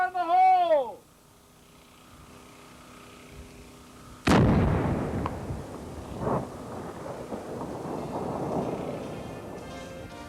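Unexploded ordnance is detonated at White Sands Missile Range: a brief shouted call first, then a sudden heavy blast that rolls into a long, rumbling decay.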